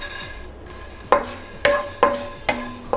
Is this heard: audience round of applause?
no